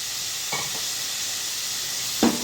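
Food sizzles in a pan as a steady bright hiss, with two brief louder stirring or frying flare-ups, close and without talk.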